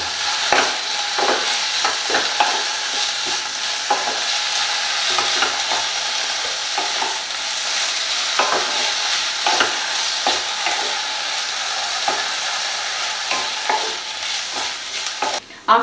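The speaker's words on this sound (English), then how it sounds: "We need to fry in such a way that your potatoes should get boiled." Sliced potatoes and onions sizzle steadily in a pan over a medium flame for a Spanish omelette, with frequent scraping and stirring clatter, close and continuous with no talking.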